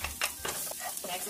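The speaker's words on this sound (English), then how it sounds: "So the oil is warm enough now to saute the garlic." Garlic sautés in warm oil in a pan for spaghetti sauce, giving a brief, faint sizzle with soft stirring scrapes.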